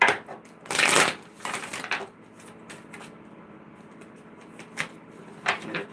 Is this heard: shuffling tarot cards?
yes